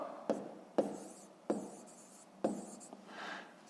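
Pen strokes on paper during a fifth-grade maths exercise, four sharp scratchy taps spaced about a second apart, each followed by a soft trailing scrape, with a longer faint rub near the end.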